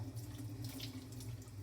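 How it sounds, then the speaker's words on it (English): Tap water pours continuously into a sink as hands are held downward and rinsed, producing a constant near splash with faint variations and no one talking. "then I rinse them off with the water"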